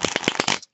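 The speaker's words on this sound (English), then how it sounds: "I'll go ahead and give it a couple of riffle shuffles." A new, stiff deck of playing cards is riffle shuffled, giving a quick burst of sharp, close fluttering clicks that ends abruptly.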